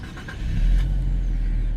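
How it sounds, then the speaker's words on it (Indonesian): A 2022 Nissan Fairlady Z starting up: a brief starter whir catches into a loud, deep engine roar that settles into a steady, rumbling idle, heard up close. "tekan engine start button di tengah sini untuk menyalakan mesinnya"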